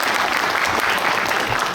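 Dense, loud applause fills a forum hall at the end of the first session on peaceful unification and national security, a continuous wash of many hands clapping at once.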